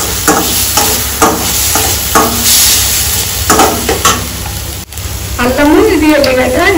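Onion sizzles and fries in a pan while being stirred for aloo paratha filling, a steady crackling hiss with scraping strokes throughout, and a voice speaking briefly near the end.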